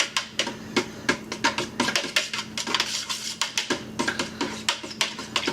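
Rapid metallic clinking of a utensil stirring an aquarium water sample in a container, repeated sharp taps in an uneven rhythm, close and fairly loud with no talk.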